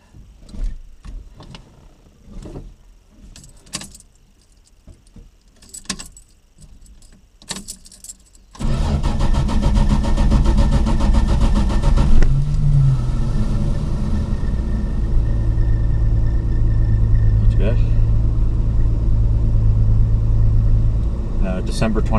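A 1974 Plymouth Valiant, parked for over two years, has its engine started: first scattered handling clicks and keys, then the engine catches and settles into a loud steady running idle with revving, people talking nearby.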